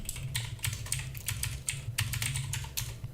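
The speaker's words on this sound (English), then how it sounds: "I'll type node main" Fingers type a terminal command on a computer keyboard in a steady patter of close, crisp keystrokes lasting a few seconds, with no one speaking.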